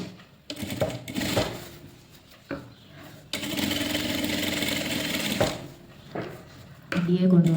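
A sewing machine stitches the back panel of a blouse in steady bursts, its close whirring run stopping and starting between short pauses, with someone speaking over parts of it.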